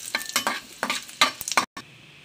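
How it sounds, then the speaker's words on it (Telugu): Dried red chillies fry in hot oil while being stirred, giving short bursts of sizzle and scraping at a steady rhythm, close and fairly loud, with a sharp clean break near the end. "ఇందులో మనం ఎండుమిరపకాయలు మనం వేసి వేయించుకోవాలి ఈ విధంగా మనం కలుపుకుంటూ వేయించుకోవాలి"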